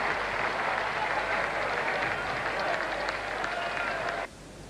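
Sustained applause from a crowd of about 25,000 at a Test match at Perth, England versus Australia in 1974-75, loud and even, then cutting off abruptly near the end.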